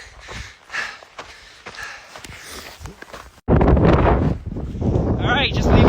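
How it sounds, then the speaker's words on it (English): Wind gusting across a mountain summit beside a first aid station during the Mammoth 200 trail race. Quiet crunching steps and light wind give way to a sudden, loud, sustained roar buffeting the microphone. "It is windy, which I was expecting."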